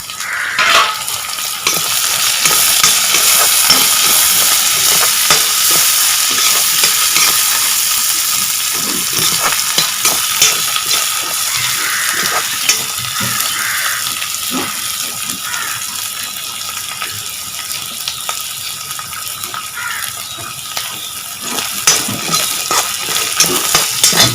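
A sour ingredient, the tenga, sizzling in a hot pan with continuous close frying hiss and frequent scraping stirs of a spoon against the metal, no voices over it.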